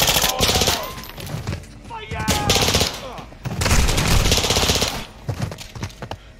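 Shotgun blasts and other gunfire in the Call of Duty Modern Warfare II campaign, loud repeated bursts with a heavy boom near the middle and more shots toward the end, mixed with game voices and chatter.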